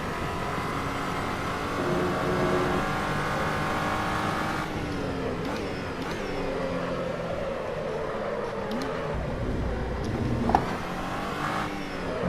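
An SCG 003C race car in Assetto Corsa, its engine droning steadily at high revs while it laps the track, the pitch rising and falling with throttle and gear changes, loud and continuous with no talking.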